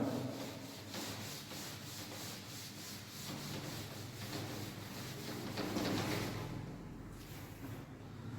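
A drawn diagram being rubbed out, a continuous dry scrubbing rasp of steady strokes that swells slightly toward the end and then fades, close and without talk.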